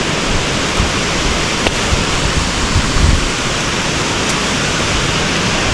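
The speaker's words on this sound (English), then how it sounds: "just casually walking by amazing waterfalls." A waterfall roars in a constant, dense rush of white noise, loud and unbroken throughout, with no voices.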